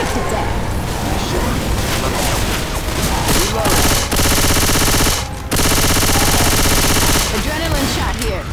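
Rapid gunfire in the video game Left 4 Dead during a bus stop survival round, loud sustained bursts and crackling shots filling most of the stretch with brief pauses, while players talk over the shooting.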